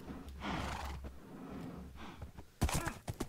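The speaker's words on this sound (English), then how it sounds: "These are the horses." Horse whinnying in Minecraft, a modded 1.12.2 game world, with a couple of long, moderately loud neighs followed by sharper thumping bursts near the end, heard alone.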